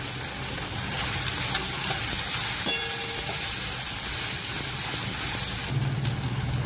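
Potato pieces tipped into tomato frying in a pan set off a steady, close sizzle with a brief clatter as they land, the hiss continuing evenly throughout.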